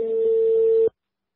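A single steady telephone call tone plays on a recorded phone call, a loud, clean continuous beep lasting just under a second before cutting off abruptly to silence.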